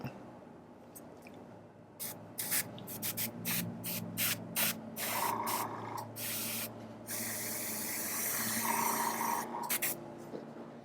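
An airbrush sprays paint onto the feet of a miniature timber wolf in short, repeated hissing bursts, close and fairly loud, with brief pauses between them and longer sustained sprays later.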